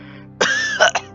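An old steam engine character in an audio drama gives a short, rough cough, a voiced imitation with a quick throat-clearing burst followed by two smaller huffs, close and alone.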